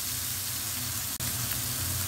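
A soft bun toasting lightly in a pan, giving a steady, even sizzle throughout with a brief dip near the middle, close and moderately loud.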